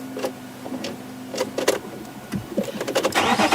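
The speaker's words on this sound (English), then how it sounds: "if we can start the car." A safari vehicle on an evening game drive in Djuma, South Africa, gives a few sharp mechanical clicks and whirs, then its engine cranks and catches into a rising, rough rumble that stays close and fairly loud.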